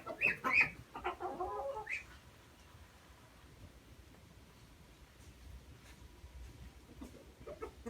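Chickens on a chicken farm cluck and squawk close by for a couple of seconds, then quieter rustling and faint farmyard background continue.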